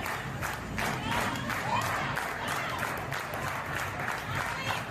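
A pro wrestling crowd cheers and applauds throughout a women's tag match, a dense, steady roar of clapping and shouting from a nearby audience.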